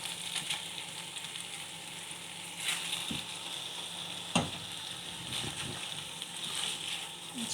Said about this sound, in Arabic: نشوحه كده في الزبدة.